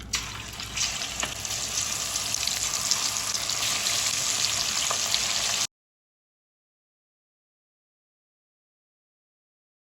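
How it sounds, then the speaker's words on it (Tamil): Coconut-coated fish frying in hot oil gives a steady, loud, dense sizzle with faint crackles for several seconds, then stops abruptly into silence. "நம்ம ஃபிஷ்ஷை வறுக்க தொடங்கிக்கலாம்."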